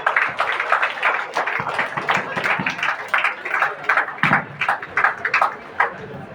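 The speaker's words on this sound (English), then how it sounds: "Let's all give up a clap for them." An audience at the inauguration of a national workshop on pain in Pondicherry, marking World PT Day, claps in an uneven, rhythmic patter of hands, close and fairly loud, with no talking.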